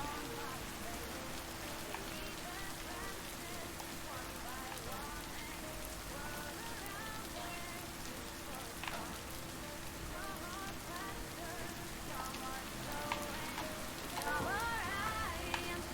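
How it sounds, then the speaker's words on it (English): Steady rain in the video game Lake, a soft continuous patter on surfaces that holds evenly throughout, with a faint voice talking quietly underneath and a few brief louder spots near the end. "This rain is very relaxing."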